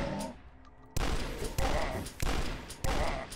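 Shotgun blasts ring out in a video game, four loud evenly spaced shots each followed by a short rumbling decay.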